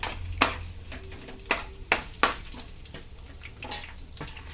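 Mustard seeds, garlic and urad dal frying in a pan for okra curry, a steady close sizzle broken by several sharp clinks and scrapes of a spoon stirring against the pan.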